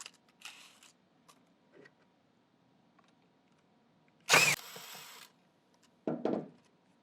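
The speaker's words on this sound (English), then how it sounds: "what you want to do is remove these 3 Phillips head screws" A power screwdriver whirs in two short bursts while backing out three Phillips head screws from the pad holder of a Tennant 2370 / Nobles BR-2000 floor scrubber, with faint handling clicks between bursts.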